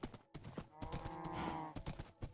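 A video game cow moos in a long, low drawn-out call, surrounded by soft thumps and clattering steps, fairly quiet overall.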